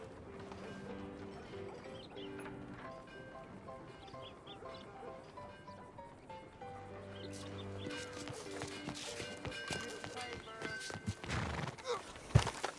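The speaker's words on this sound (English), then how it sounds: "Get on your horse, John." Horse sounds from the video game Red Dead Redemption 2 play over a melodic music score, with hoofbeats and rustling growing busier and louder toward the end and one sharp hit near the close.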